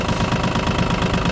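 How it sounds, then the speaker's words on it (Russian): A Yanmar F-200 Japanese mini tractor engine runs steadily, a dense, close mechanical clatter with a rough, knocking rhythm and no voices over it. "Сейчас быстренько запустим этого парня, чтобы послушать, как он работает."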